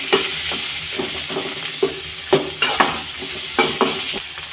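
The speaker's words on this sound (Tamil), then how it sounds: "இப்போ வெங்காயம் போட்டுக்கலாம். நான் 2 வெங்காயம் எடுத்திருக்கேன், பெரிய வெங்காயம்." Two large onions fry in a pan, giving a steady close sizzle broken by repeated sharp clinks and scrapes of a spoon stirring against the metal, with no speech.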